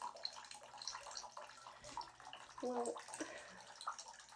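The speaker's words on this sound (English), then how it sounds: "I'm in the tub." Water sloshing and splashing in a bathtub, heard close and fairly soft, with light movement through the bathwater and a person speaking briefly over it.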